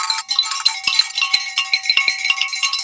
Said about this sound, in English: It's a lot of bell ringing going on tonight.